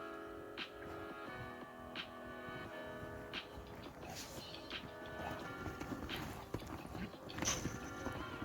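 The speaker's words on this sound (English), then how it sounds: "Strange horse." A horse walks with hooves clip-clopping at a steady pace in a barn setting, the footfalls moderately close and mixed with low background noise and occasional faint voices.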